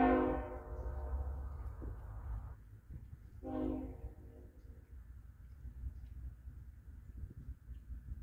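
Norfolk Southern freight train creeping a short distance north of milepost 12 while held for a signal: a loud horn blast opens, a second shorter blast follows, over continuous low rumble of the locomotive and rolling cars.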